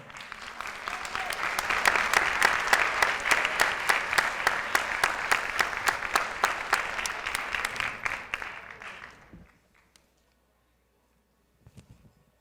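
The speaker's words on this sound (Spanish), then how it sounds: "Recibamos pues con un aplauso a Ignacio Ferrando" An audience at a writers' congress applauds to welcome a novelist to the stage, steady rhythmic clapping that swells and holds for about nine seconds, then stops abruptly into near silence.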